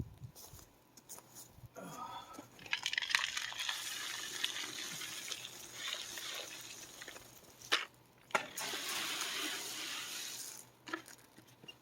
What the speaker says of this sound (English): I'm just pouring it in dry and then putting water over top of it, and that's it.